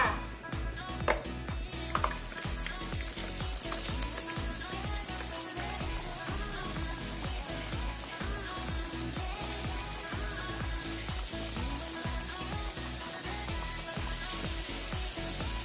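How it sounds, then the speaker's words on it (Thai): Batter-coated tilapia pieces deep frying in hot oil, giving a dense, continuous sizzle and bubbling that holds steady throughout, with no voices. "พอเราชุบแป้งเสร็จแล้วนะจ๊ะก็ให้เราสลัดแป้งออกนิดนึงนะ แล้วก็นำไปทอดเลยจ้า"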